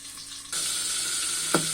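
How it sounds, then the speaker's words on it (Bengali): Steady hiss of magur catfish frying in hot oil in a covered pan jumps sharply louder partway through, then continues as a dense, loud sizzle with a brief clatter near the end. "দেখেন মাগুর মাছগুলো একদম তেলের মধ্যে কিভাবে ফুটতেছে।"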